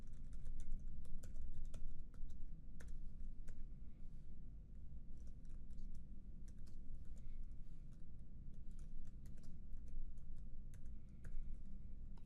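Typing on a computer keyboard, rapid light clicking keystrokes in irregular bursts, close and quiet over a low steady background hum.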